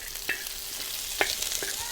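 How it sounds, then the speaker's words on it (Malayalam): Chopped onion frying with ginger and garlic for gobi Manchurian, a steady sizzle broken by a few sharp clicks of a spoon stirring the pan, heard up close with no talking. "ഇതിലേക്ക് ഒരു സവാള ചെറുതായി കട്ട് ചെയ്ത് ചേർക്കുന്നുണ്ട്."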